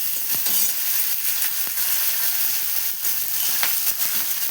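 Green chillies, curry leaves and coriander fry in a pan for a bottle gourd curry, giving a steady close sizzle with a few soft stirring clicks and no talk.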